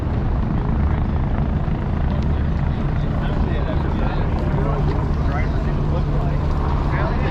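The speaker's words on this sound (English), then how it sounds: "You can probably hear behind me the helicopters are coming and going" Loud, steady rotor and engine roar fills the whole stretch, a helicopter droning continuously close by at the Indy 500, with a voice faintly underneath.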